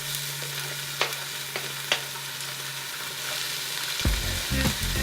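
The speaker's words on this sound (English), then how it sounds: "I add my onions and my jalapenos first, just because they take a little bit longer to saute down" Onions and jalapeños sautéing in hot oil for chili, a bright even sizzle with sharp spoon taps, then a heavier clatter of stirring near the end, with no one talking.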